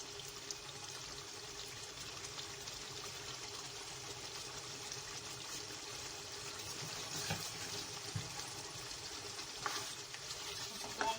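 Goat or mutton pieces with whole green chillies fry in hot oil for achari gosht, a steady dense sizzle that holds throughout with faint stirring scrapes in it. The sound is close and no one speaks.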